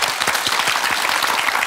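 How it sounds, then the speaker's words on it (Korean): Studio audience applause on a Korean television talk show, steady dense clapping throughout without talk. "우리 응원의 박수 좀 보내드릴까요?"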